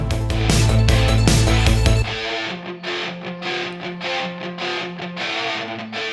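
Electric guitar run through a Guitar Rig plugin effect, heard as a loud, dense, distorted playing with strong low chords for two seconds, then lighter rhythmic effected phrases pulsing steadily with no voices.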